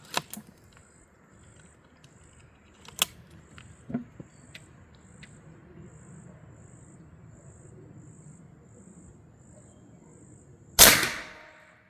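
An A.E.A. PCP air gun firing a single sharp, loud crack near the end, preceded by quiet ambience with crickets chirping steadily and a few faint clicks and taps.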